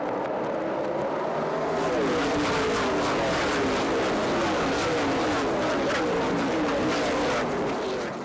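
ARCA stock race cars roaring off at the green flag, a dense, loud wall of engine noise that builds steadily and holds throughout with no voices.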